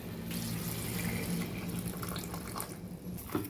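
Steady running water from a tap, a continuous broadband rush with a few small splashes near the end, fairly close.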